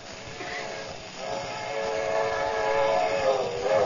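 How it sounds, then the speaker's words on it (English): A train rumbles past with a steady broad roar that swells gradually, no voices, just continuous rolling noise. "Now, be careful, Kelowna. There's a train coming."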